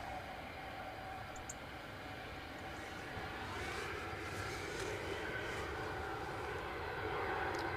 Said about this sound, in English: 757, our United Airlines departure is now transponding.